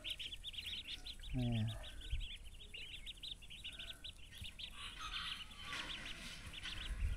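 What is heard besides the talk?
ducks quacking near a person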